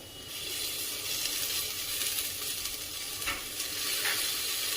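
Chopped onion and tomato with salt sauté in a pan, giving a steady close sizzle and stirring hiss. A few brief scraping accents come through near the end, and no one speaks.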